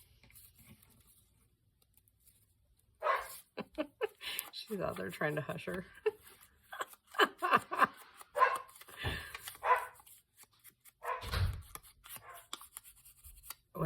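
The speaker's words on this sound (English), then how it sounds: "When you hear barking now, that's Grace's dog" A neighbour's dog named Grace's dog, a frequent barker, barks in short bursts at a distance, mixed in with people talking nearby.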